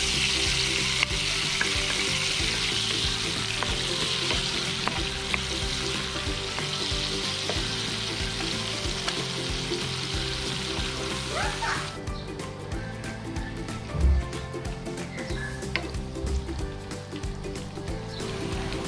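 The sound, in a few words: garlic frying in butter for buttered garlic shrimp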